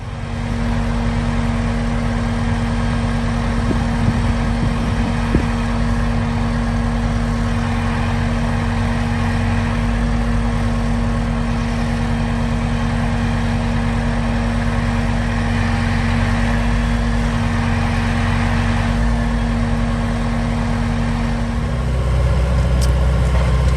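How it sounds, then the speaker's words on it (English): A gravel truck's engine runs steadily at a storm-cleanup site while hauling brush and saw logs: a continuous, loud mid-range diesel rumble with a constant hum, heard alone for the whole span. "Gravel truck number 2 coming to get more brush and some saw logs out front here"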